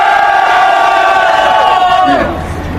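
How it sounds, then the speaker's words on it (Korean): A rally crowd at a Cheonggye protest against election fraud shouts together in one loud, sustained roar lasting a couple of seconds, then fades off at the end. "안 되면 또 함성을 지르세요."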